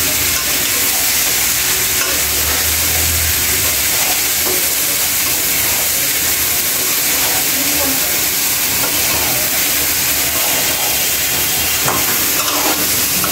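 Seven or eight kinds of mixed vegetables fry in a pan for a home-style curry, a loud, continuous hiss and sizzle with occasional stirring scrapes and clinks.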